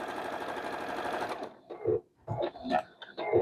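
A home sewing machine stitches gray thread to applique a quilt's milk bottle shape, a fast steady whir for over a second before stopping, then short bursts of handling noise follow.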